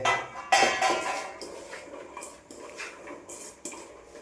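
Chopped raw mango pieces tumbling into a cooking pan, a few clattering knocks and scrapes of fruit against metal, close and moderately loud with no talk.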